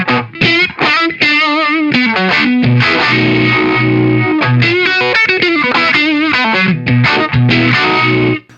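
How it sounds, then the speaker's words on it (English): Electric guitar driven through a Manalishi Drive overdrive pedal from the Eastwood Black Box line: loud, gritty distorted chords and riffs played continuously with brief gaps, with no voices. "I'm going to add the Overdrive back in, the Manalishi Drive"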